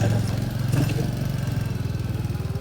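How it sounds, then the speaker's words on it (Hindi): A motorbike engine runs close by with a steady rapid low chug, pulsing evenly and loudly the whole time, with faint outdoor noise behind it and no talking. "जल्दी से बैठते हैं बाइक पे और चलते हैं दूसरी डेस्टिनेशन पे।"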